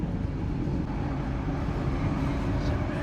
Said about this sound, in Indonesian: Dan itu dia kereta Kertajaya dengan kelas premium stainless steel generasi pertama, rangkaian panjang.